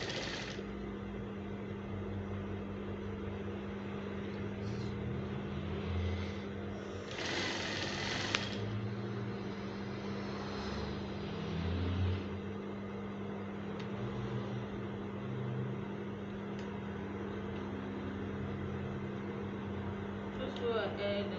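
A sewing machine stitching a Fila-style African men's cap, a steady mechanical whirr with a constant motor hum running throughout, one louder burst midway, with a voice talking over it.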